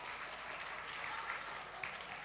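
An audience at a comedy performance claps in a steady, dense burst of applause that stays fairly quiet and even for a couple of seconds.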